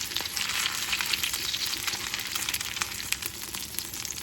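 Salmon patties fry in oil in a pan, giving a steady, close sizzle with scattered pops and crackles throughout and no talking.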